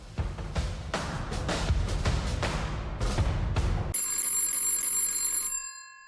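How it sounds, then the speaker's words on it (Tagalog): A phone rings with a bright, electronic tone that sounds alone near the end. It follows several seconds of loud, choppy noise bursts. "Ringtone."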